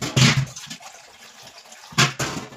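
Water is poured into a bowl in two short splashing bursts, with a quieter trickle and gurgle between them, close by in a kitchen.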